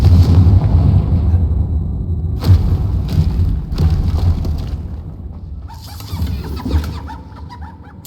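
A Confringo spell in Hogwarts Legacy bursts with a loud, close boom at the start, then rolls into lower rumbling and a few sharp crackling hits before a softer burst near the end.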